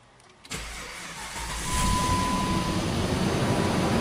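Car engine cranking and catching at around half a second, then settling into a steady idle that rises slightly in level, heard up close during a diagnosis of multiple faults including a radio that will not power on.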